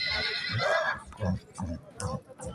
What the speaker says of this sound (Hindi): ऐ घोड़ा जनाब देखो माशाल्लाह कितना खूबसूरत, और कद वेखो घोड़े का।